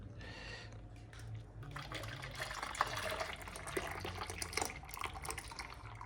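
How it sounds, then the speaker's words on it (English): Hot crab apple jelly liquid poured from a pan into a jug gives a faint, close trickling and splashing that swells and varies, with small clinks, and no voices heard. "And tip this into the jug, if I can do that without burning myself."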